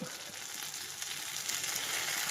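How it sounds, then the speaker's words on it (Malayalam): Prawns fry in a pan with a steady, fairly quiet sizzle and a light, even crackle of spitting oil throughout, with no voices. "ചെമ്മീൻ ചട്ടിയിൽ കിടന്ന് തുള്ളി കളിക്കുന്നു"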